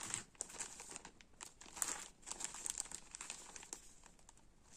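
Small plastic bags holding skeins of embroidery thread crinkle and rustle up close, in soft irregular bursts of crackling handling noise, faint and without any voices.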